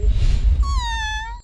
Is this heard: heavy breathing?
no